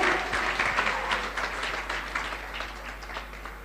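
Clapping from a crowd at a Safe Shop ladies' meeting in Agra, given in honour of a guru, Awadhesh Yadav, forms a dense, continuous wash of applause that slowly eases in loudness toward the end.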